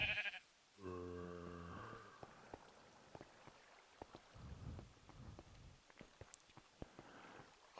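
Blocky sheep bleats from the video game Minecraft, a short stacked-harmonic baa near the start followed by quieter scattered game sounds and soft ticks.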